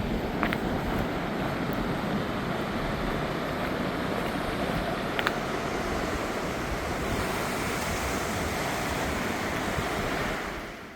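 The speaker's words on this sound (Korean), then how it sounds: "오늘 파도는 정말 세네요" Strong sea waves pound a beach on the Uljin coast near Jukbyeon in a steady, loud roar of surf mixed with buffeting wind noise on the microphone, continuous for about ten seconds before easing off.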